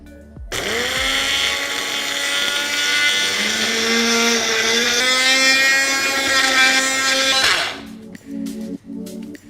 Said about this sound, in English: Now we'll grind it to a coarse mix to make the lasan chutney.